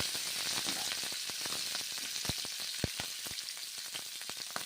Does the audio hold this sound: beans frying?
yes